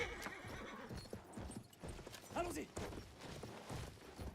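A horse galloping in a video game, with rapid clip-clop hoofbeats running throughout and a neigh rising in the middle, set against busy background game sounds.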